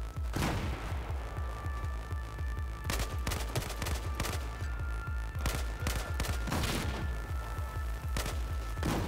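Gunfire in the video game Battlefield 4 crackles in rapid, dense bursts of sharp shots and booms, continuous and loud throughout with short gaps; no one speaks over it.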